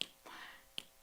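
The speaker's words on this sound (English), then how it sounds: "what I'm going to do is I'm going to snap my fingers." Two crisp finger snaps about three quarters of a second apart, close and quiet, marking a slow metronome beat in an otherwise silent room.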